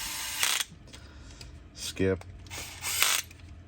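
A Bosch drill with its clutch set to 7 torques bolts on a crawler's grabber in short, loud bursts of whirring, including a quick ratcheting clutch slip, while a person talks between the bursts.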